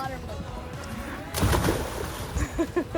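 A person splashes down a homemade slip and slide at a water park, with a wet splash burst midway and a second smaller splash near the end, amid voices and outdoor chatter.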